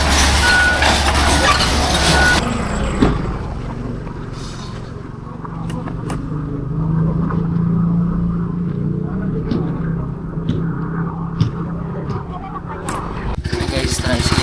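Motor tricycle ride through city traffic, steady engine drone and road rumble close by, with passing vehicles, brief beeps and people talking over it.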